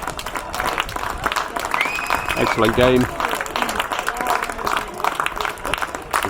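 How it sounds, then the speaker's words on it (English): Spectators applaud after an over-35 men's field hockey match, a sustained crowd clapping that swells and then holds across the whole stretch, with a commentator talking over it. "You can hear the crowd appreciated it."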